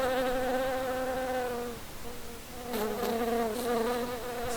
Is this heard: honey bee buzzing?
yes